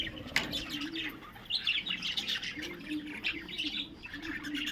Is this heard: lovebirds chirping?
yes